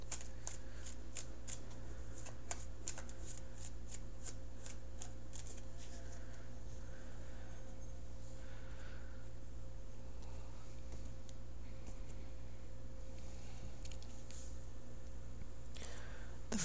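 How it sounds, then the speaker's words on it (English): Tarot cards being shuffled and cut, a quick run of crisp riffling snaps early on that thins into softer, scattered card slides and taps, close and fairly quiet over a steady low hum, with no talking. "Give me just a few seconds and I will cut the cards."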